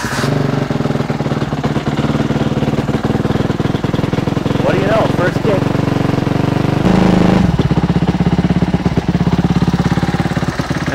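A Suzuki dirt bike engine, kick-started, runs loudly and steadily at close range, a rough rapid put-put with a brief change in pitch partway through.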